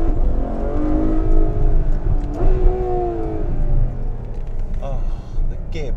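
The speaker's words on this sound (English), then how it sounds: "The throttle response is outrageous, and the noise. It's, oh man, listen to that." Ferrari F12 Berlinetta engine at full throttle, a continuous rising rumble and whine from inside the car as it accelerates hard, with a voice talking over it.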